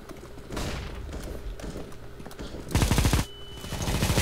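Gunfire in Counter-Strike: Global Offensive, scattered shots and bursts over game ambience, ending with a loud rapid automatic volley near the end, no talk.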